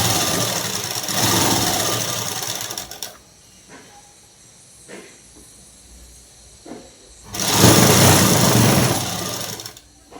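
A sewing machine stitches a night dress seam in two loud, steady whirring runs, one at the start and one near the end. A quieter gap between them carries faint clicks and handling noises.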